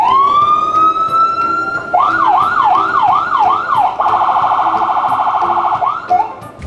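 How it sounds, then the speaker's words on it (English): A loud emergency siren wails steadily, shifting from a rising tone into a quick yodeling warble, then a rapid high-low pulse, continuing without pause throughout. "What do you think that is? The siren."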